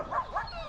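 A dog in a quiet South African village gives two short, high yips close by, in quick succession, with faint background ambience.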